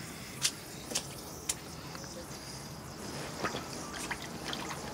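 Water trickles and drips softly at a distance, with a few sharp splashy drips early on over a low steady background.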